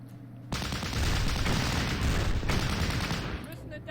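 Gunfire from the Battle Academy 2 strategy game during an Operation Bagration assault on a machine gun nest: a sudden loud burst of dense, overlapping shots and booms that roars on continuously for about three seconds.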